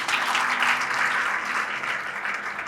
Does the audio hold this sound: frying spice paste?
no